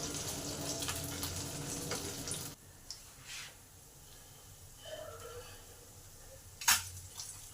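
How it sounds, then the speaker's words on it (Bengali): Pabda fish sizzling and crackling in hot oil in a pan, a loud steady fry for the first couple of seconds, then quieter intermittent spitting and clinks, with one sharp burst near the end. "এবার বাকি মাছগুলোকে ভেজে নেব।"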